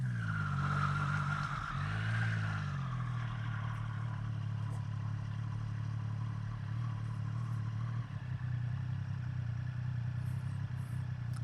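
A 2023 Triumph Street Triple 765RS motorcycle on the road, its engine giving a steady, low, close drone with a brief rise and fall in pitch near the start, then holding an even cruising tone.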